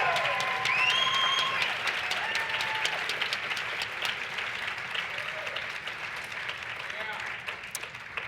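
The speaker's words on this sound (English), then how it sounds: "Thunderous applause, make some noise" Audience at a conference plenary gives sustained applause, a dense wash of clapping with a few whoops near the start that gradually thins toward the end, with voices mixed in.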